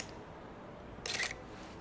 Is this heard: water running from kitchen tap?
no